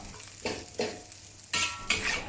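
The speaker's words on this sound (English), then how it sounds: "keep the heat low so that you have time to break up the lumps of the rice with the wok spatula" A wok spatula breaking up lumps of overnight cooked rice with egg in a wok over low heat: soft sizzle under repeated scraping strokes, about four distinct pushes, the last two louder and brighter.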